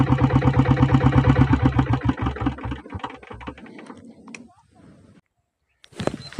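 A 1995 company diesel Royal Enfield Bullet motorcycle engine running, a loud rapid thumping idle that fades and stops within a few seconds, followed by a short pause.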